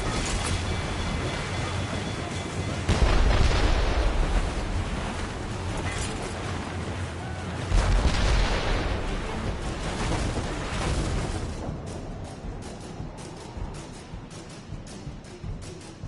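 Ship cannon fire in a naval battle in Assassin's Creed Rogue Remastered, with booming shots near the start and middle over a constant roar of sea and wind, thinning to scattered, fainter cracks at the end.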